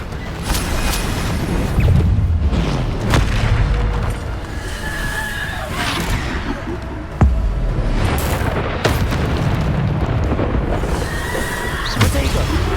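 Spell blasts and booming impacts from the Hogwarts Legacy Bombarda explosion spell, several loud bursts scattered among frantic combat effects, magical whooshes and creature cries over a busy game mix.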